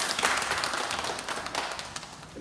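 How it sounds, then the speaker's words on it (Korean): A church congregation gives brief, fairly light applause after a sermon, a short patter of many hands clapping that fades slightly over two seconds. "저에게 위로의 박수를 좀 부탁드리겠습니다."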